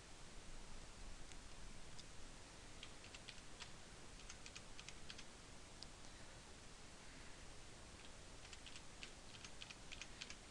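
Fast, light keystrokes on a computer keyboard as a password is entered, scattered faint clicks over a steady hiss of background noise, with no voice.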